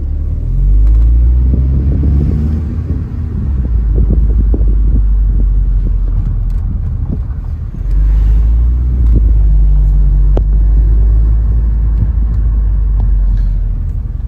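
Interior engine rumble of a 2012 VW Golf R driving, a steady low drone with road and wind noise throughout, carrying on without pause.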